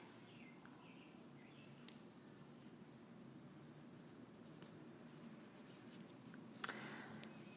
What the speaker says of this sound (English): I'll write it out.